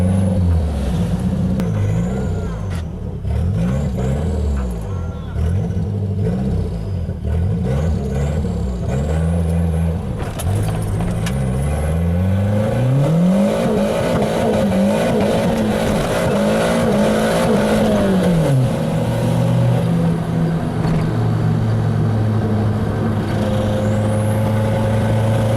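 A Nissan car with a turbocharged GA16DET engine and a rattling transmission, likely a worn input shaft bearing, accelerates hard from a standstill, its loud, close engine note climbing and dropping through several gear changes before settling into a steady drone.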